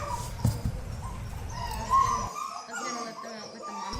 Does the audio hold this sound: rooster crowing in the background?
no